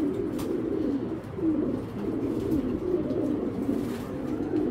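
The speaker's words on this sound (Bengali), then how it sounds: "কবুতর দেখবেন, আমি দেখাবো ইনশাল্লাহ।" Racing pigeons coo in a loft, soft, repeated throaty rolling calls overlapping close by in a steady murmur, with no voices.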